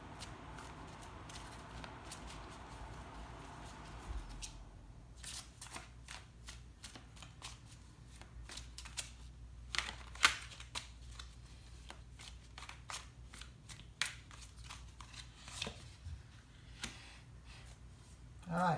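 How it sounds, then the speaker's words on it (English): Oracle cards being shuffled and drawn by hand, close and quiet: a soft rustle at first, then a long run of crisp card flicks and snaps with small taps and pauses, and no talk over it. "Alright, I'm going to go ahead and draw on some oracle cards now."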